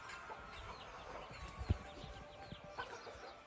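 Chickens cluck softly amid a busy farmyard background, with scattered short calls and a few louder bursts from nearby birds.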